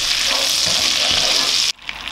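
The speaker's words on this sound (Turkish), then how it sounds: "Ayrı bir tavada tereyağını eritiyorum. Tereyağını karıştırarak eritiyorum." Butter melts in a pan while being stirred, giving a loud, steady sizzle close by that cuts off abruptly near the end, followed by quieter scraping.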